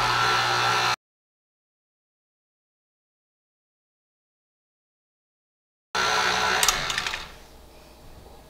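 A mixer churns cinnamon roll dough with a steady whirring motor drone that cuts out to silence, then returns and gradually quiets.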